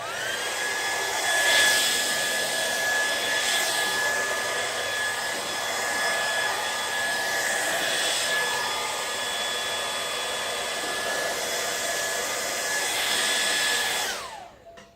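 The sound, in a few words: hair dryer blowing on cool setting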